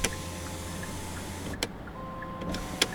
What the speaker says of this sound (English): you'll hear a little backup tone